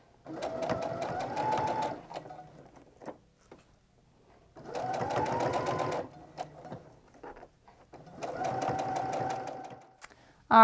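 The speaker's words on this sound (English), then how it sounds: "I often will move my sewing machine stitch so that I'm sewing a 3/8 of an inch seam." A sewing machine stitches a 3/8-inch seam on mittens made from an upcycled sweater, running in three loud, steady bursts of about two seconds each, separated by quiet pauses filled with faint handling noises.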